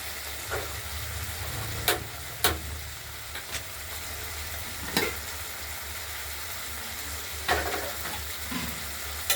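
Masala sautés in oil for a katla fish curry with potato, tomato and coriander, a steady close sizzle broken by scattered sharp scrapes and knocks of stirring, with no talk.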